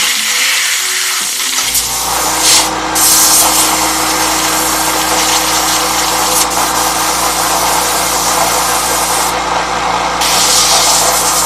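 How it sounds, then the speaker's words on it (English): An airbrush sprays paint with a loud, continuous hiss after a short quieter start, the airflow surging and dipping briefly a few times as the paint is agitated in the cup. "Agitate the paint in the cup."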